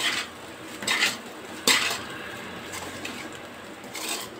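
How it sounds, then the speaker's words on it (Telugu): Vegetable lemon rice being mixed in a pot, with a spoon scraping and clinking against the metal in a few uneven strokes, close and fairly quiet. "ఇది చక్కగా ఇలాగా ఉప్పు కూరగాయలన్నీ కలిసేలాగా కలుపుకోవాలి."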